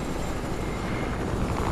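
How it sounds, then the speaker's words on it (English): Steady broadband aircraft roar, consistent with a helicopter, fills the whole stretch at moderate level with no distinct rotor pulsing and no speech. "get to the chopper"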